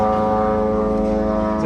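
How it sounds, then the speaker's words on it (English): Drones overhead in Gaza make a constant loud, droning buzz with a steady engine-like tone that holds unchanged throughout. "amid the constant noise of drones overhead"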